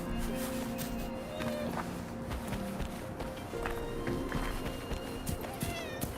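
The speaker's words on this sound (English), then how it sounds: "See those cats? You can go give them a pet if you want." Cats in the video game Wuthering Waves meowing several times at close range amid game ambience and footsteps, with the meows coming in short separate calls.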